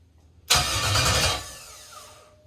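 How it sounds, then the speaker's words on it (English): An LS V8 engine swapped into an E46 turns over on its starter with no ignition, a sudden loud whirring crank that runs for about a second and then winds down and fades. "So I'm gonna do the starter with no ignition, so we'll just hear it turn over."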